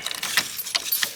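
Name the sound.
car keys jangling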